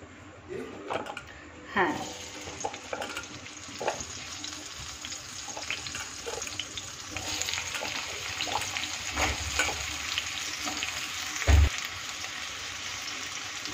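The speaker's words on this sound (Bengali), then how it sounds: "অল্প করে তেল দিয়ে সেম কড়াইতেই আলুগুলো ভেজে নেব" Potatoes frying in a little oil in a wok, a moderate sizzle running under intermittent scraping and stirring strokes, with a loud knock near the end and some speech-like sounds mixed in.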